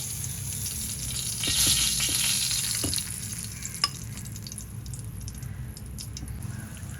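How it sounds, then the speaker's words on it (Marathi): Slices of bottle gourd fry in a pan with a soft, close sizzle, a few stirring scrapes and a sharp tap midway, the crackle easing slightly after the first few seconds. "आणि अशा प्रकारे मी सर्व काप तळून घेते"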